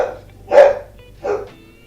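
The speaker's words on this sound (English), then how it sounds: "That's my dog barking." A dog barks twice, a loud close woof followed by a slightly softer second bark, with quiet in between.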